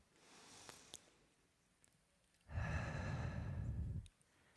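A person takes a deep breath during guided breathing: a faint inhale, then a loud, close, breathy exhale lasting about a second and a half before quiet returns.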